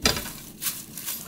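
A dry ingredient for a Korean side dish is stir-fried without oil in a preheated frying pan or wok, making close, rustling scrapes and light crackling in short, uneven bursts.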